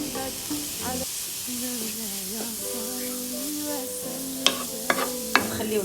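Ingredients sauté in oil with a splash of lemon juice, a soft steady sizzle with a few sharp spatters near the end, set against sustained tonal background sounds.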